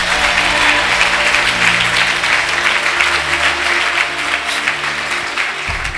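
A church congregation claps loudly and steadily, with dense applause filling the room for the whole stretch and no voice speaking over it.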